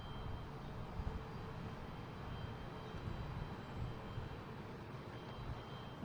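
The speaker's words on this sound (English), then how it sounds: "All right, I hear the engine." An airplane engine at Boston Logan International Airport, a broad, steady roar heard from a distance, filling the scene evenly without speech.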